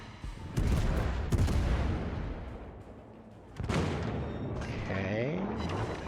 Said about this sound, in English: The Moines shells hit hard